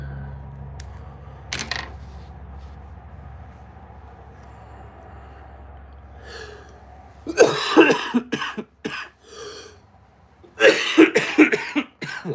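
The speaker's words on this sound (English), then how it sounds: "Sorry about that cough" A few harsh coughs break out in quick bursts, with quieter gaps between them, close up over a low hum.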